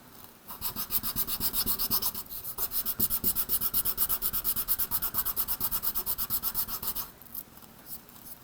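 Fine grit sandpaper rubs polymer clay in a steady, rapid back-and-forth rasp, close and fairly quiet, running in even strokes with short pauses at the start and near the end.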